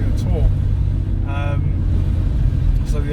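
Car with its rear bumper removed, its exhaust giving a steady, loud low rumble throughout, with a person talking over it.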